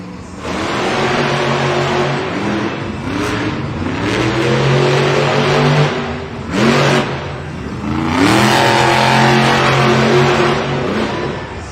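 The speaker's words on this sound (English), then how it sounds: "super comfortable in this Monster Jam truck as he gets ready to line up to the starting line" Monster Jam monster truck engine at a Spokane arena event, loud and close, roaring and revving in repeated surges with rising and falling pitch at the starting line, crowd noise faintly underneath.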